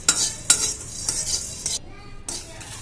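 A spoon stirs cumin, fenugreek and peppercorns dry roasting in a pan, giving a string of close, sharp scraping clinks against the metal at an uneven rhythm, with a faint dry crackle beneath.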